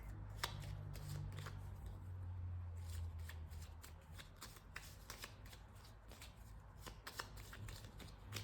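Tarot cards are shuffled during a card reading, a rapid run of crisp riffling and snapping flutters repeated close to the microphone over a low background hum.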